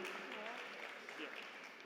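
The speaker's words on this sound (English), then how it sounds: "a big round of applause" Applause for graduating business students at a college convocation: a steady, full wash of clapping from a crowd, sustained at an even level throughout.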